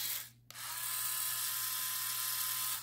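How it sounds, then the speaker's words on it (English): A small electric motor runs in reverse, a steady high buzzing whine that starts after a brief stop and holds evenly and close throughout. "So this is the motor that's having the issue, but on motor control, it's fine."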